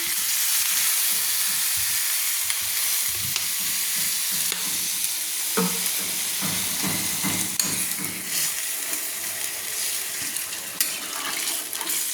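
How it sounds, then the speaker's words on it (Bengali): Water poured into a pan of fried spiced masala for a rui fish and cauliflower curry, giving a steady close sizzle and bubbling with scattered stirring and clinking throughout. "তখন প্রয়োজন মতো জল ঢেলে দিচ্ছি"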